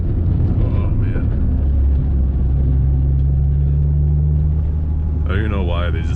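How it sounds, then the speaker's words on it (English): A stock Honda Integra GS-R with a B18C1 VTEC engine rumbles steadily over a rough road on a mountain touge cruise, a constant loud low drone with a voice speaking over it near the end. "Here we go with this dang rough road thing again."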